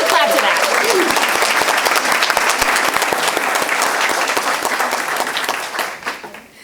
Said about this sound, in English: we should clap to that